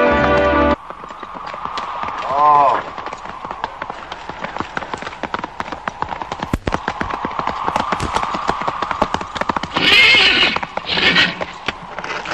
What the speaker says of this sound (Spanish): Nice horses you bring me.